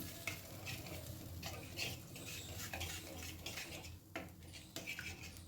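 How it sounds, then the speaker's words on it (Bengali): Ingredients for a vegetarian brinjal dish being mixed in a pan with a little water over a low gas flame: steady scraping and clinking of a spoon against the pan under a faint sizzle, continuous and close, with no talking. "সব কিছু খুব ভালো করে মিশিয়ে নেব।"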